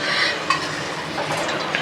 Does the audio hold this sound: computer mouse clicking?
no